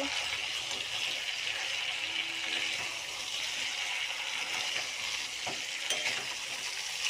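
Masala frying and sizzling in a pan on a high gas flame while being stirred, a steady close hiss with faint scraping and light clinks throughout, no talking.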